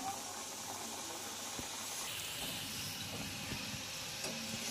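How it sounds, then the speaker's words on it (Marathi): A second batch of salty shankarpali deep-fries in hot oil, giving a quiet, steady, continuous hiss with faint crackles throughout and no talking. "तर दुसरी सुद्धा बॅच आपण अशीच तळून घेऊया"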